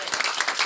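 Audience applause at a presentation, a short loud burst of clapping from a crowd.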